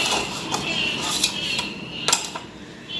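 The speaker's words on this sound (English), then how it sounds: "now brush it all over the pan, at the sides and at the bottom" A pastry brush spreads oil across the sides and bottom of a metal cake pan, giving soft scraping strokes with a few sharp clinks of the brush against the pan, close and clear with no talking.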